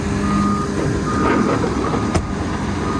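A Doosan DX300LC-7 excavator working in a quarry, its steady reversing alarm beeping over a continuous engine drone, with one brief sharp clank near the end.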